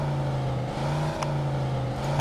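The Jefferson car's engine in Mafia 2 gives a steady low hum with a faint revving edge, a sustained drone that stays even and fairly close through the short moment.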